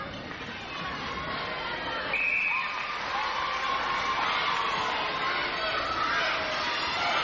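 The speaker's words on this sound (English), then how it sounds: "I think that might have been the Amy Adelaide Thunderbird cheer squad revving up" A netball cheer squad and crowd in an arena cheer and shout in a sustained roar that swells midway, with a commentator talking over it.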